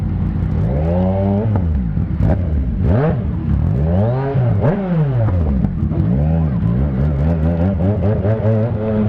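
BMW S1000RR motorcycle fitted with a full aftermarket exhaust system, ridden in standard mode, revs up and down loudly and close, with repeated rising and falling engine sweeps throughout and no talking.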